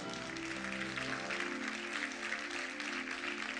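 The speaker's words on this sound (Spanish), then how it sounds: "Denle un aplauso a la Biblia." Sustained applause from a large church audience, a dense wash of clapping over a held musical tone, steady and fairly loud throughout.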